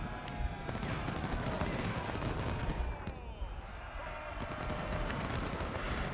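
Musket volleys in the Civil War strategy game Ultimate General, set at Fredericksburg, crackle in a dense, continuous fusillade with scattered sharper shots and a rumbling battle din, a voice speaking faintly beneath it.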